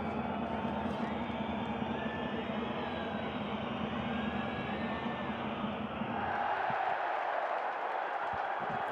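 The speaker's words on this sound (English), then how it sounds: "Listen to the reaction of this Italian crowd as Ulm miss a free throw." Italian basketball crowd in an arena reacting to a missed free throw, a steady loud roar of many voices with whistles and jeers that swells further near the end.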